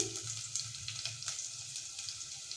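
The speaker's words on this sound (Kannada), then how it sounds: "ಈರುಳ್ಳಿ ಮತ್ತು ಕರ್ಬೇವಿನ ಸೊಪ್ಪು ಹಾಕ್ಕೊಂಡಿದ್ದೀನಿ" Onion and curry leaves fry in hot tempering oil with crushed cumin and garlic, giving a steady, close sizzle and crackle that runs unbroken and alone.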